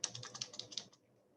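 Quick close-up typing on a computer keyboard, about a dozen crisp key clicks in a fast uneven burst that stops abruptly, leaving near silence.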